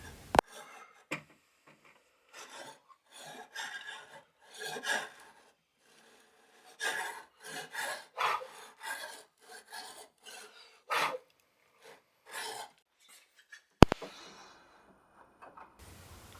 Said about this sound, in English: use your saw and cleanly go from end to end, and so you have a track for your saw to cut into